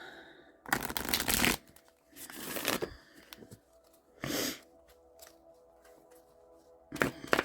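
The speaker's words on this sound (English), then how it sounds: "let me give this one more shuffle" Cards are riffled and shuffled in several quick bursts, each a crisp fluttering flurry separated by short quiet pauses.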